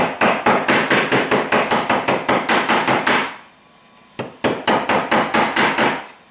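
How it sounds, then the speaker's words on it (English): Hammer head tapping out a dent in a Kawasaki KLT 200C motorcycle fuel tank: rapid, evenly spaced metallic blows, about a dozen in a steady run, a pause of about a second, then another quick series, loud and close. "There, the head of that hammer, that's perfect."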